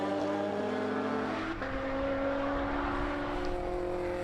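Lotus race car powering past on the Dijon circuit during a Lotus Cup Europe race, a loud, continuous high-revving engine wail with shifting pitch as it passes, dominating with no talking.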